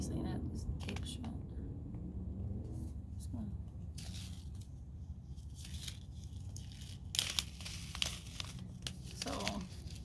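A taped-shut spinach seed packet being pulled open, with crinkly paper tearing and rustling in short bursts over a low background rumble while someone speaks quietly.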